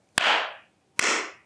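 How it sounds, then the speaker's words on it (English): Two sharp hand claps about a second apart in a room with a concrete floor, each followed by a bright, fluttering reflection that trails off over roughly half a second. "I don't know if you can hear this, but there are some pretty bad reflections if I clap"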